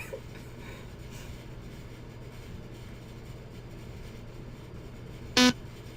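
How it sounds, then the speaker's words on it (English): A short electronic beep sounds once, brief and clear, over a steady low background hum. "I heard a beep"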